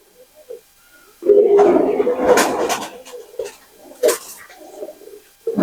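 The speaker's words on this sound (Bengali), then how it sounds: "একটা ঝাপট পায়রা দেখছি" Racing pigeons of an old Pakistani bloodline in a breeding loft coo in deep, throaty bursts, close and fairly loud, with short pauses between calls.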